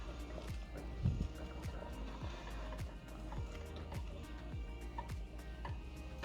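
BBQ sauce at a rolling boil being stirred in a pot, a faint continuous bubbling with frequent soft pops and plops, quiet and close, no voices.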